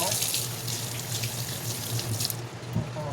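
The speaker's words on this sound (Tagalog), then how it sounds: "Yan, hugasan mo na ang kalabasa." Tap water runs steadily into a sink as a squash (kalabasa) is rinsed under it, a continuous close splashing stream with faint handling noises.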